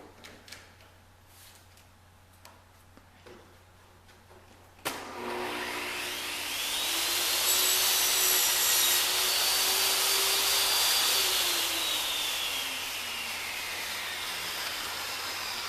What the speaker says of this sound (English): that's how you make the tapered ends on the table saw